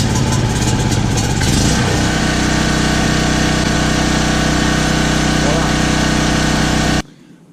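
A Champion 3550 watt dual fuel generator cranks with a brief electric-start whir, catches and settles into a loud, steady engine drone up close, then the sound drops sharply near the end.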